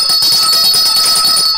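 A short, bright notification bell tone rings steadily for under two seconds, loud and clear with no voices.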